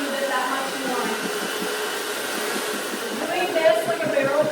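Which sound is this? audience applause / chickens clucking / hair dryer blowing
hair dryer blowing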